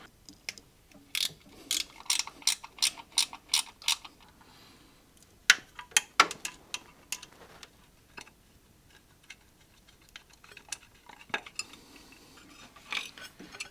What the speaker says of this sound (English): now I just want to remove the bolts holding on the red part of the cover